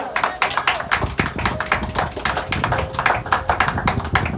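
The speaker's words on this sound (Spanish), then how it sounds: "Dele palmas al Señor." Church congregation clapping in rhythm during a Spanish-language sermon, many hands beating a fast steady pulse that fills the room, with faint voices underneath.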